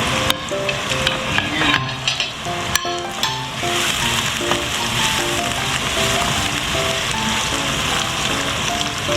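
Garlic, ginger and onion frying in a pan, a steady close sizzle throughout with occasional sharp clicks of stirring.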